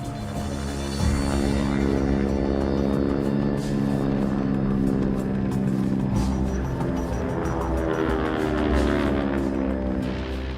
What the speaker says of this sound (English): Five of the RAF's cumbersome and outdated Bombay aircraft clambered into the darkness